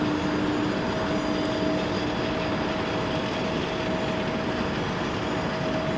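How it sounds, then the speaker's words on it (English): A heavy jet from Amsterdam approaches runway 30 left at Minneapolis–St. Paul airport, a steady broad engine roar with a faint whining tone held throughout, distant and unchanging. "165 Heavy from Amsterdam. Now in sight as it approaches runway 30 left."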